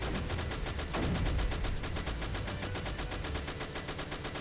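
Rapid gunfire in the video game Creeper World 3 rattles on continuously in fast repeating bursts, fairly quiet and steady, with no talking.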